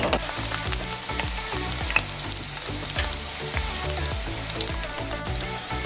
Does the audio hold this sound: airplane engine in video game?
no